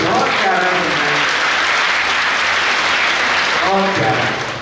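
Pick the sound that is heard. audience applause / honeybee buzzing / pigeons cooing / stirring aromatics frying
audience applause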